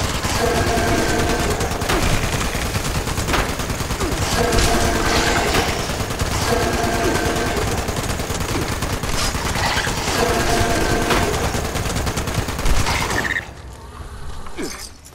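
Exploding shotgun fire in Fallout 76, a dense, continuous loud barrage of blasts and mechanical clatter that runs steadily for most of the stretch before dropping off sharply near the end.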